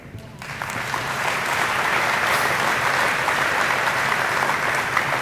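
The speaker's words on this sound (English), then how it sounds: "you all should give yourselves an applause for that" A crowd breaks into loud, sustained applause, dense clapping that swells in the first second and holds steady.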